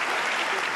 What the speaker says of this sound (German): Der Applaus braust auf